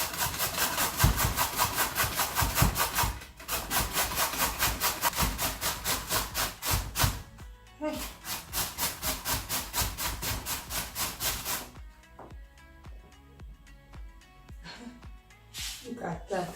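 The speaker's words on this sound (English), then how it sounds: "So I'm going to grate it." A potato being grated by hand for potato fufu, a fast, steady series of rasping strokes that run loud and close, pause briefly, then continue more faintly near the end.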